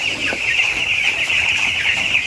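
Chickens at a poultry farm cluck and chatter continuously, a dense close flock sound with steady high-pitched calls filling the whole moment.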